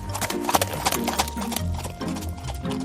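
Horse hooves clip-clop in a quick, uneven run of light knocks, near and moderately loud, with no talk over them.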